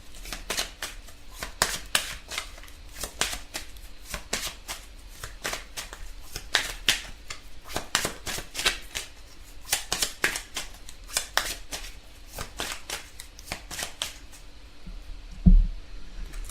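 Tarot cards are shuffled again and again for a general reading, a rapid series of crisp riffling bursts, close and moderately loud, ending with a soft tap.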